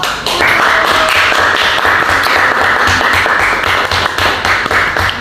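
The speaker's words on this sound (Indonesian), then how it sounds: "Oke, tepuk tangan dulu buat kelompok." A classroom group receives applause from fellow participants during a teacher training session: dense, continuous clapping from many hands close by, steady and loud throughout without speech.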